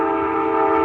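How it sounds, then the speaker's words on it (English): A train sounds close by, a loud sustained tonal blast, likely its horn, heard alone for under a second. "That's a train right there"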